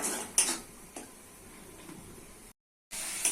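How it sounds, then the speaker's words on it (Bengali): Turmeric, chili, cumin and coriander powders with salt are stir-fried in a pan, heard as a few sharp spatula clinks against metal over a faint, quiet scrape, broken by a brief gap of silence. "মশলা ভালো করে কষে নিতে হবে"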